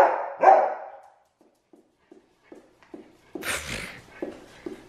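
An elderly dog barks indoors at home: two loud barks up close, then a string of softer, short woofs and yips spaced out, ending with a louder burst and more small barks.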